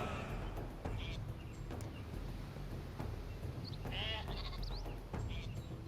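Sheep bleating from the strategy video game Northgard, several short bleats rising over a busy bed of game ambience and music, moderately close and clear.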